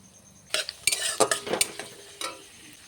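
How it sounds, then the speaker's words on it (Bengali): Dry red chilies and five-spice seeds frying in oil in a wok for mango pickle, with soft sizzling and several close clinks and scrapes of a spoon stirring against the pan. "দিয়ে লঙ্কাটাকে একটু আমি ভেজে নেব"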